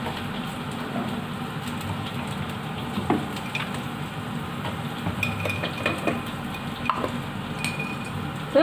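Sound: stir-frying in a pan

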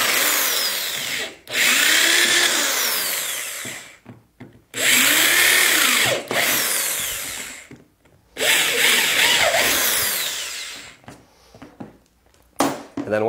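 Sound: power drill drilling holes in dolly feet

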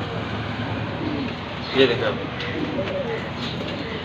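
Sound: pigeons cooing

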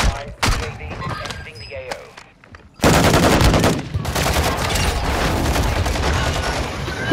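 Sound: gunfire crossfire in a shooter video game

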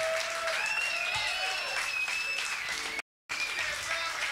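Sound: audience applause at live blues concert

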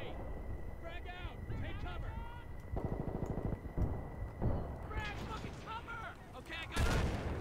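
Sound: grenade explosions and gunfire in the Battlefield Bad Company 2 video game

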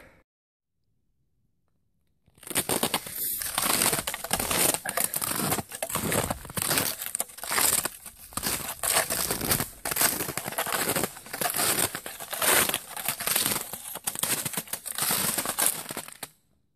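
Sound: setting up bushcraft tarp

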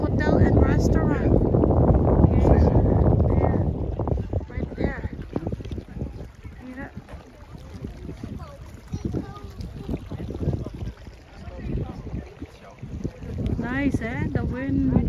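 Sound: wind blowing at Strokkur geyser, Iceland

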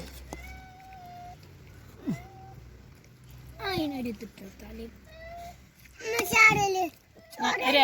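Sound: cat meowing

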